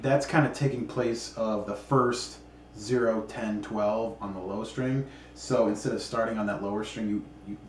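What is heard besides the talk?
No everyday noise stands out behind the speech.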